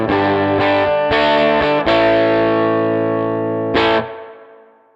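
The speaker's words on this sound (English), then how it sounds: "we have overdriven the amp just by pushing more volume into the input" Electric guitar through a Headrush MX5 amp model with input gain cranked to +12 dB, heavily overdriven; several loud distorted chords strike in quick succession, a long sustained chord rings, then a final hit decays away with no talking.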